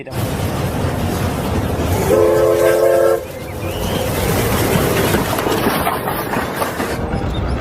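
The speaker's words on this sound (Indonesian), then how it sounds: "Wah, kita mendapatkan kereta api teman-teman. Coba dinyalakan." A small toy Thomas train rattles along with a mechanical clatter, sounding a short electronic horn melody partway through, close and fairly loud.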